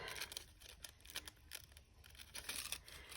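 Quiet snipping and crinkling of scissors cutting around the head of a paper art doll, a run of short close cuts with rustling paper between them.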